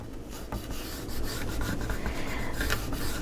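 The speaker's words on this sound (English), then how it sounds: "I'm going to make a new scoring mark" A scoring tool is drawn along paper to press a new fold line for a handmade mini album, making a steady close rubbing, rasping scrape that runs continuously for a few seconds with no talk.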